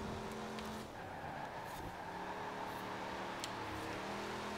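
A 1964 Chevrolet Impala Super Sport 409 in Forza Horizon 4 attempting a drift, with a steady engine drone and a smeared tire squeal holding loud and continuous over a noisy game mix.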